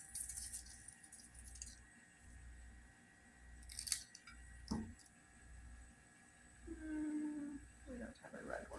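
Flower stems, including snapdragons, being snipped with scissors in a front-yard flower garden, a few faint, close, sharp cuts spread across quiet outdoor background, with a voice speaking briefly.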